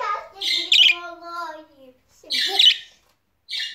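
A newly bought pet bird chirps and squawks in two bright, close bursts of calls, with short gaps between them and quiet indoor room tone.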